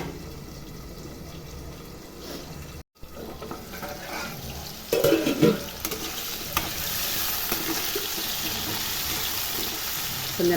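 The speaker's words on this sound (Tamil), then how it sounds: "கொஞ்ச நேரம் அப்படியே எண்ணெயிலே வேகட்டும்." Vegetables for veg biryani frying in hot oil in a pan, a steady soft sizzle with occasional stirring scrapes and a louder burst of crackling partway through, close by with no talking.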